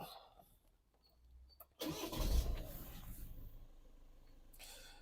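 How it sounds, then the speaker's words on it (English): A Vauxhall Vivaro van under diagnosis for a P20EE fault is started: a quiet lead-in, a sudden crank and catch, a loud rev, then the engine settling into a steady idle close by. "Now I'm going to start the car."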